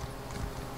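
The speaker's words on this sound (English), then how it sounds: "Horse riding." Horse hooves clip-clop in a steady, continuous rhythm while riding a mount in the video game Elder Scrolls Online, close and fairly quiet, with no talk.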